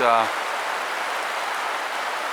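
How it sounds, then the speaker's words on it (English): Light rain falls in a steady, soft hiss that runs evenly throughout after a brief voice at the very start. "so it's a good little rain that we're having"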